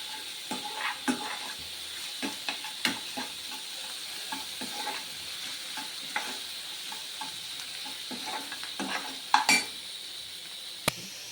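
Ginger and garlic fry in a little oil for a rajma masala curry, a low continuous sizzle broken by frequent light clicks and scrapes of a utensil against the pan, with a few sharper knocks near the end.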